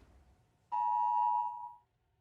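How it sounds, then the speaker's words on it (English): A loud, steady electronic phone alert beep starts abruptly, holds a single tone for about a second, then fades out, with no one talking over it. "That's not a good sound for my phone."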